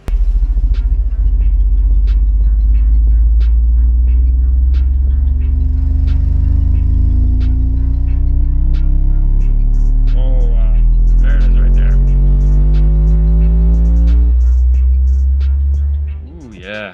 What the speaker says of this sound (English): some of that deeper bass, it definitely is playing a lot